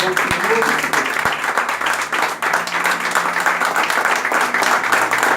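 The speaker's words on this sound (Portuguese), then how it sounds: "A igreja, bem forte, aplauda o Rei dos Reis." Loud, sustained applause from a large church congregation, dense and steady, with voices and shouts mixed in.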